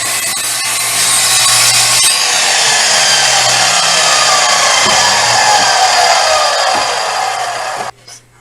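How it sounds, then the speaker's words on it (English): A circular saw cuts through wood for a small shelf, a loud, close, sustained whining cut lasting several seconds before the blade winds down abruptly near the end. "So you could do all of this with just a circular saw."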